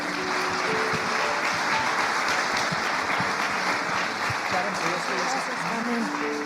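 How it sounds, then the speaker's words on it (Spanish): Steady applause from a church congregation welcoming a woman to the pulpit, continuous clapping from a crowd with a few voices calling out in the background. "Le podemos recibir con un aplauso a nuestra hermana."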